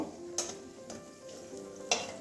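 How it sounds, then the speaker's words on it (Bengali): Water lily flower fritters frying in oil over low heat, a faint, steady sizzle broken by a few soft stirring scrapes, with no talk. "একটু টাইম নিয়ে ভাজছি আমার দুটো বড়া হয়ে মানে সাপলা ফুলের বড়া হয়ে গেছে"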